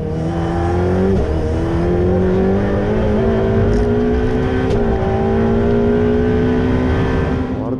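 A Ferrari 488 Pista sports car drives on a race track, its engine droning loud and steady from inside the cabin as the pitch climbs slowly through a long pull, with no speech over it.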